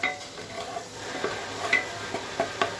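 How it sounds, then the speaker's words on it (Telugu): Butter melts and sizzles in a pan while butter popcorn is being made, a soft steady frying hiss with a few light stirring scrapes and clinks, close by. "So butter కరిగిపోయిందండి."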